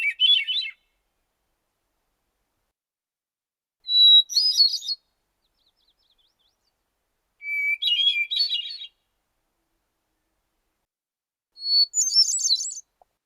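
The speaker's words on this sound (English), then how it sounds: "Thrushes in general are some of my favorite bird songs" A recorded thrush song of Wisconsin: four separate clear, fluting phrases, each under a second long, spaced several seconds apart with silence between, heard alone and fairly close.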